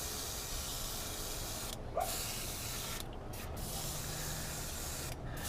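A steady hiss of spray paint on model parts runs continuously, with a few brief pauses in the spraying, close by and fairly loud.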